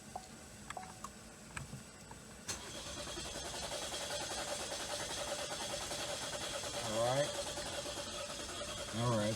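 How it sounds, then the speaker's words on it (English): A car engine with fault codes P0014 and P0017 cranks at length before starting, with a steady whirring crank after a few clicks and catching near the end. Someone speaks briefly at the start. "Here's the long crank time."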